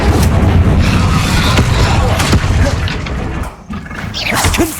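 Fiery spell blasts cast in Hogwarts Legacy, a string of loud booming bursts and crashes in combat, close and dense, with a brief dip before another surge of impacts.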